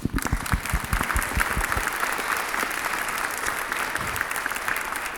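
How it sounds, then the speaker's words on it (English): An audience at a Christmas concert by the Fairfield Municipal Band in Iowa applauds the band, a few sharp claps close by at first, then a full, steady round of crowd clapping that carries on to the end. "let's give them a round of applause"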